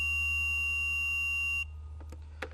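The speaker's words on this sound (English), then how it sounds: "you'll get a beeping noise when you touch each end of the leads together" A multimeter continuity-test beep, steady with a buzzy hum underneath, holds for over a second and a half, then cuts off, leaving faint clicks.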